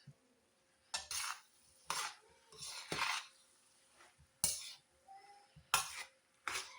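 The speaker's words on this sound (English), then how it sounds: "I'm gonna give this a good stir" A spoon stirs a pot of food seasoned with black pepper, giving about eight separate bursts of scraping and clinking against the pot, close and fairly quiet, with near-silence between strokes.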